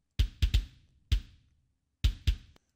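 Layered kick drum, a low-passed original combined with a high-passed sample, strikes six times in an uneven pattern: punchy, deep thumps with a bright click, each decaying quickly with silence between hits.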